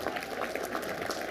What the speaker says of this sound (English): Give both of them a hand of applause